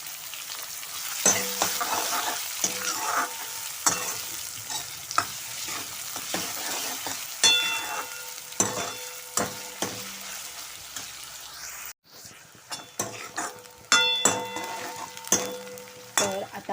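Onion sizzles in hot oil in a pan for a Konkan-style cashew chicken, with a steady frying hiss broken by repeated scraping and stirring knocks of a spoon against the pan, and a brief pause midway.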